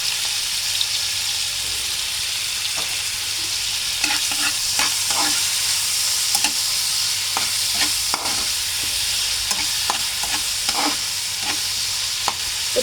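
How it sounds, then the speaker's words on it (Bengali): Shrimp seasoned with salt and turmeric frying in mustard oil for a salad, a steady close sizzle with scattered crackles and spatters throughout, no voices. "সরিষার তেল দিয়ে আমি এখন চিংড়িটা ভেজে নেব সালাদ করার জন্য।"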